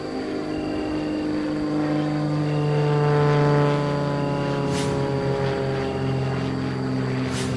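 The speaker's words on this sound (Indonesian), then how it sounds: "Lihat itu, ada pesawat." A droning aircraft in an Upin Ipin horror cartoon flies overhead, a steady engine hum with rotor-like harmonics that swells toward the middle and holds loud, with no voices.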